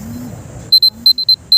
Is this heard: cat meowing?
no